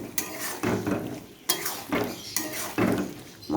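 A utensil scrapes and stirs kohlrabi, potato and prawn curry with spices in a pan, in four or five rhythmic strokes that knock against the metal, with a soft sizzle underneath.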